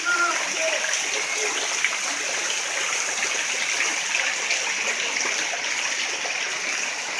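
Floodwater rushing steadily through a flooded street in the Santo Antônio neighbourhood of Codó, a continuous broadband wash with no pauses, close and fairly loud throughout.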